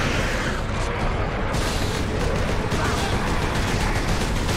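An artillery shell blast in the 2011 Space Marine game on Xbox 360 sets off a dense, sustained roar of explosions and gunfire that fills the whole stretch at steady loudness.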